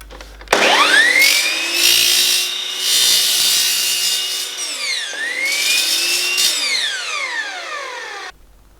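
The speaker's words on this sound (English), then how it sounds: "cut some miters into the aluminium channel" A saw cuts miters into aluminium channel for a platform roof rack, two long passes of high, ringing metallic whine with rising and falling pitch, loud and close, with no talk.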